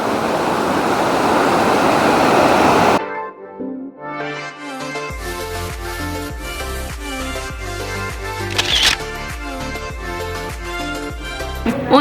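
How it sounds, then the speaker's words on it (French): Fast, snowmelt-fed river current rushes loudly as a steady broadband roar for about three seconds, then cuts off and gives way to music for the rest. "Vous avez vu la hauteur de l'eau et le courant."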